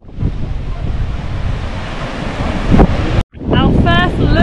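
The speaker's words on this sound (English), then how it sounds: "the waves are quite strong" Strong ocean waves roar as steady broad surf on a windy beach at Havelock Island, with wind buffeting the microphone; after a brief cut, a voice speaks over the surf.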